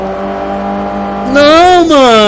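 A damaged car's engine in Forza Horizon 4 hums at a steady droning pitch, then surges into a loud rising and falling whine as it revs, close and prominent.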